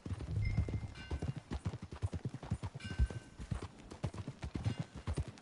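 Horse hooves clip-clop in Red Dead Redemption II as a ridden filly travels at a steady gait, with dense, even, rhythmic thuds close by and a soft whinny early on.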